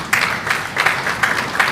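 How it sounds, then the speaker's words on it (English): Audience applause at a parliamentary conference on the fight against terrorism comes as a short, close burst of clapping with a pulsing rhythm. "Des applaudissements pour Monsieur Lopatka, s'il vous plaît"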